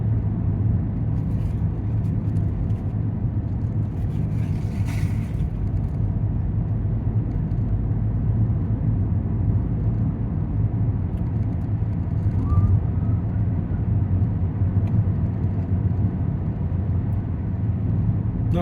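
A car drives a mountain road in New Mexico between Ruidoso and Carrizozo, with a steady, loud engine and road rumble that continues unbroken throughout, with no talking.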